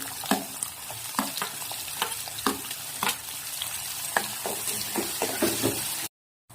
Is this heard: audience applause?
no